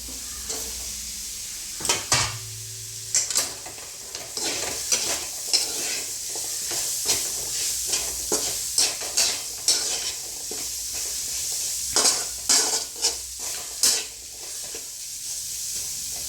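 Potato pieces fry in a hot green-chilli masala and are stirred over and over. A spatula scrapes the pan in quick rhythmic strokes over a constant sizzle, close and clear, with no talking.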